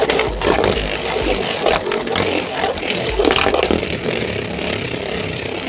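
A Beyblade Super Hyperion fitted with added metal spins in a stadium, giving a continuous loud whirring grind with scraping knocks as it rides the stadium edge, close and steady throughout.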